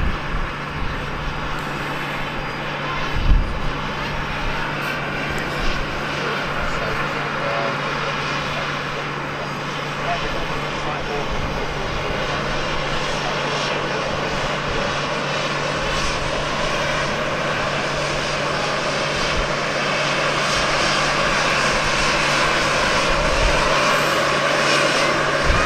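A LATAM airliner taxis toward departure at Amsterdam Schiphol, its jet engines a steady, moderately distant rumble and whine that grows slightly louder toward the end, with no talk.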